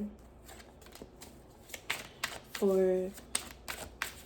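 Tarot cards are shuffled close up in quick, rustling riffles and soft taps, with one brief tonal sound in the middle, while a person speaks throughout.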